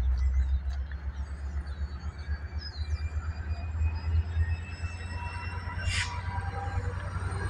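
A short freight train with auto rack cars rumbles past at close range in Cincinnati, Ohio, with a steady low roar and rhythmic wheel clatter, plus a brief high squeal near the end.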